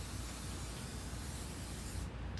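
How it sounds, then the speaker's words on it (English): Plasti Dip aerosol spray hisses steadily from a can onto a spinning Honda CT90 motorcycle wheel, a continuous close, even spray with no talking. "if you do it off the bike, I definitely recommend you set something up so you can spin it, because it gives you this nice even"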